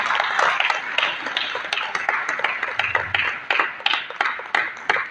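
Audience applause for agency providers at a marketing conference, sparse clapping from a modest crowd with sharp individual claps that come and go in uneven bursts, fairly near and with no voices over it.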